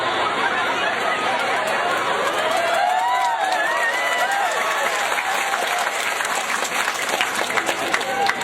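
An audience at a comedic Islamic sermon claps in sustained applause, with crowd chatter and light laughter mixed in, and a voice breaking through partway.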